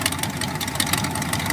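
Idling engine of a 1928 Model A five-window hot rod truck with auger-style exhaust baffles, a steady, fairly loud rumble with rapid even pulsing throughout, no voices over it.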